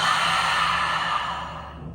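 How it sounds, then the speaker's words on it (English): A single long, steady exhale during a standing yoga session, close and soft, trailing off gently over about two seconds with no talking over it. "Take a couple more breaths. Find your focus. Find yourself once again. Inhale. Exhale."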